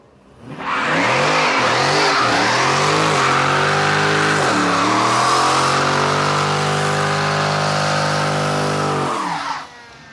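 A supercharged race car accelerating hard at a fast-car meet, its engine climbing in a loud, continuous howl with a vacuum-like supercharger whine, holding full power for several seconds before cutting off abruptly.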